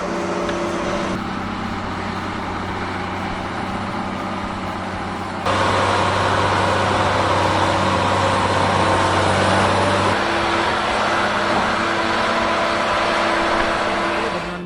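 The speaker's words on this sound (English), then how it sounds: "Case IH Quad Track 450 and STX 375 roar with engines up to 450 horsepower" Heavy diesel engines of Case IH Quad Track 450 and STX 375 tractors, up to 450 horsepower, drone steadily while plowing and leveling fields, the roar swelling louder midway and holding a constant low hum.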